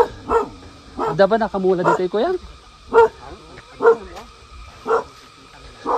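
A dog barks in short, repeated bursts outdoors near Ginamgaman Lake in Nueva Vizcaya, several sharp yips and barks spaced through the moment while a person talks nearby.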